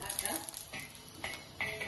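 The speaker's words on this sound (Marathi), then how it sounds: "पहिल्यांदा आपण तवा गरम करून ओल्या मिरच्या छान भाजून घेऊया" Green chillies roasting on a hot tava griddle give a soft sizzle with a few light stirring scrapes, close and quiet, and no one speaks.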